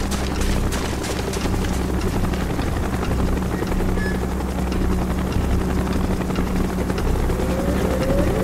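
Helicopter in the Call of Duty Black Ops video game, a loud, continuous rotor thrum and engine drone sustained throughout, with no talk over it.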